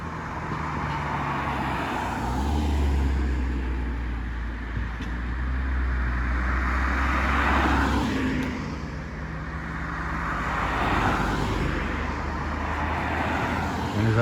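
Road traffic on a stretch posted at 20 mph in Buzzards Bay, with a group of speeding cars rolling past one after another, broad swelling engine and tyre roar rising and fading in waves, fairly close and continuous with no talk.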